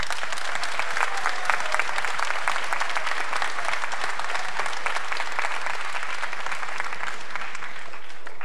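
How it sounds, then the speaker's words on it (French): Festival audience applauding the volunteer staff of a youth astronomy festival; sustained, dense clapping from a sizable crowd in a hall, even and continuous across the whole stretch. "pour les applaudir"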